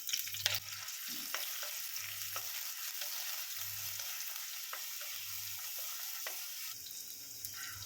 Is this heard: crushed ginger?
yes